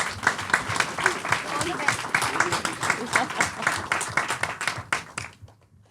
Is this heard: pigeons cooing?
no